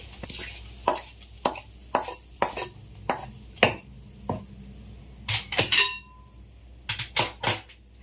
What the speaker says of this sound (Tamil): நல்லா கலந்து விட்டுறலாம்.